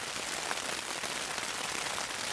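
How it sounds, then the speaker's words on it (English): Rain falling in the Sequoia backcountry near Johnsondale Bridge makes a soft, even hiss of drops on surfaces, steady and fairly faint throughout, with no voices. "it decided to start raining again"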